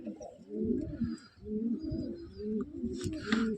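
Madras pigeons coo in repeated low, rolling phrases at close range, each call swelling and fading in a steady rhythm, with a brief flutter-like rustle near the end.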